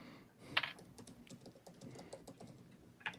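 A computer keyboard being typed on to write a message, with quiet, uneven clicking keystrokes and a couple of sharper, louder key strikes standing out against a soft room background.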